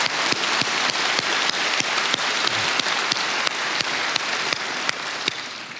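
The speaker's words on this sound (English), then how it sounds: "Let's give them a huge round of applause." Loud audience applause at the EVE Fanfest 2018 closing ceremony with a steady rhythmic clapping beat running through, continuous from start to end.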